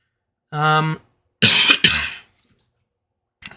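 A person recovering from COVID coughs up close in a quiet room: a short throat-clearing sound first, then two harsh coughs in a row and a faint last catch.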